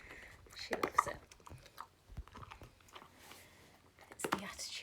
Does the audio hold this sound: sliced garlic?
no